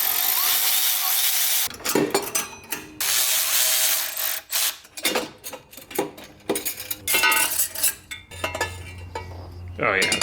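Metal being cut through the exhaust of a turbo K24-swapped Nissan Cefiro: harsh, loud grinding bursts that start and stop repeatedly, with brief quiet gaps between cuts.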